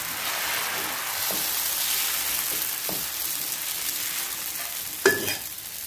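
Dosa batter spread in a circle on a hot griddle over low gas, a soft, even hiss with a few light scrapes and a sharper tap near the end, close and quiet, no speech.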